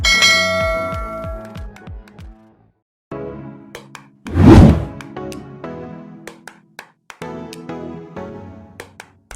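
A notification bell sound effect rings out in a run of bright chiming tones that ring and decay, broken by a short whooshing swell midway and followed by more quick chimes.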